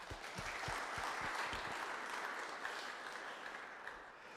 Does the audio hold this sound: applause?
yes